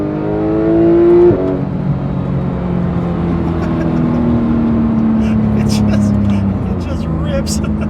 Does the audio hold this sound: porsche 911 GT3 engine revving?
yes